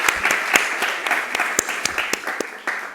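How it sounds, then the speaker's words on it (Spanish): An audience at a Latin American women's business leadership conference applauds a speaker, scattered claps popping over a softer running patter, fairly close and fading slightly toward the end. "así que un fuerte aplauso"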